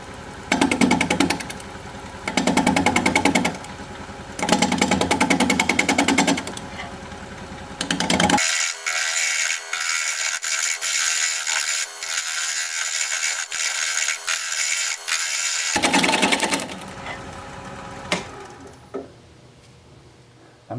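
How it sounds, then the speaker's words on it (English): Wood lathe spinning at 600 RPM while a 5/8 inch bowl gouge cuts a Pfitzer juniper bowl, a loud droning motor with rhythmic bursts of cutting noise, then a steady whine that winds down to near silence at the end. "So we're going to be turning at 600 RPM, 5/8 inch bowl gouge, mask and face shield on."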